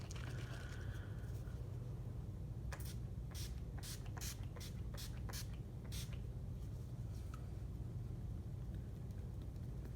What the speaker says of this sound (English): taking the Urban Decay Chill Makeup Setting Spray and just setting my entire face with this